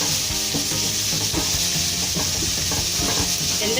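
Onions, ginger and garlic frying in a pan, a steady loud sizzle and hiss with repeated scraping and stirring strokes throughout, with no talking.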